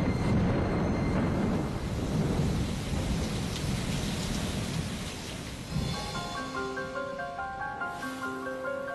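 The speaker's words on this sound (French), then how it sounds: "Pendant 100 millions d'années, il va pleuvoir." Heavy rain pours while deep thunder rumbles loudly and continuously, then the storm softens as gentle melodic tones rise over the fading downpour.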